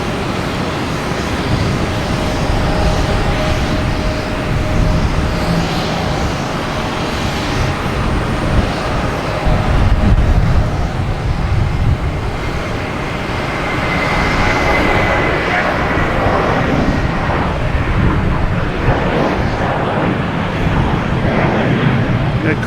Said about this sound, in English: we have Spirit Airlines on 22 right, heading to Miami